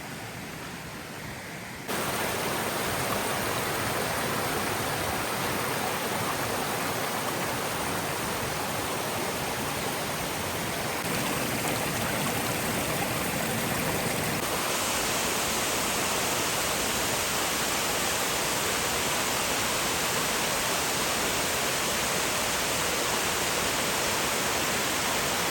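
A waterfall in the USA roars as a loud, steady broadband rush of falling water, continuous and close for the whole stretch after a brief quieter opening, with no voices over it.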